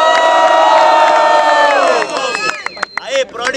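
A rap battle crowd at a student freestyle contest in Guarulhos, São Paulo, cheers and whoops loudly, with sustained shouting that breaks into scattered yells and claps.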